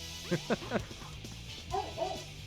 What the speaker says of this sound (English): You guys are going to get some Nina barks in the background